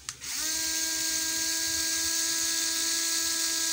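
A ZPER ZP016-3 cordless screwdriver at its highest speed setting spins up after a click and runs at a steady, high-pitched whine, loud and close, without stopping.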